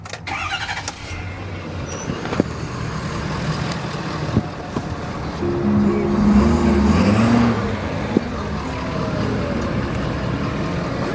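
A 2012 Ford F-350 diesel pickup truck engine idles and runs close by with a steady low rumble, a few clicks and a brief rise in revs partway through.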